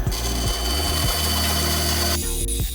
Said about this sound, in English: Now, I'm cutting out that design with the bandsaw.